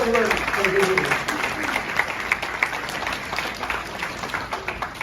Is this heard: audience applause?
yes